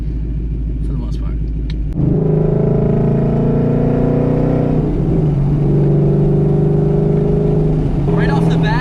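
A 722 hp Ford Mustang GT engine drones steadily while driving, with a low rumble that rises after a quiet start and holds an even cruising tone. People talk over it.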